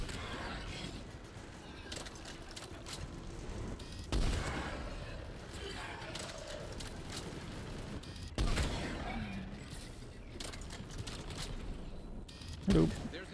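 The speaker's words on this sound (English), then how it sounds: "There's the artillery." Artillery and gunfire in the video game Mass Effect 3: repeated booming blasts and crackling shots with distant rumbling impacts, played under a steady wash of battle noise and dialogue.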